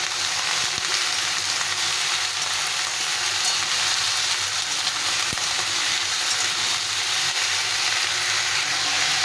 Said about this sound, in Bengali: সবজিগুলো এখন উল্টে পাল্টে একটু নেড়ে চেড়ে দিতে হবে